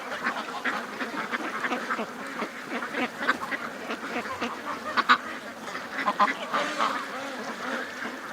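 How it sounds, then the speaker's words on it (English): A flock of ducks, Muscovy males among them, coming out of their pen, with steady overlapping quacks and honks at moderate distance, a few louder calls near the middle. "Oh, the Muscovy males are coming out of the pen though."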